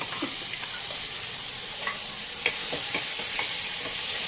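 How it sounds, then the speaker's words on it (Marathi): Spice paste for a spicy village-style bor and potato curry frying in hot oil over a lowered gas flame, a steady close sizzle with scattered crackles and a few stirring scrapes, no voices. "तर ती पेस्ट सगळी पेस्ट आपण गरम तेलामध्ये टाकून घेऊया"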